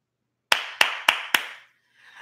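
Four sharp hand claps at a steady, deliberate pace, imitating football coach Jason Garrett's clap, each crisp and close with a short ringing tail, followed by a faint murmur.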